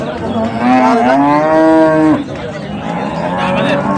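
A dairy cow at Ambari cattle market in Dinajpur lets out a loud, close moo lasting about two seconds, followed by quieter market noise.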